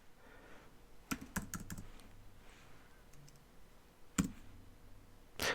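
Keystrokes on a computer keyboard while entering Python code, a few short bursts of quick clicks separated by pauses, close and fairly quiet with no talking.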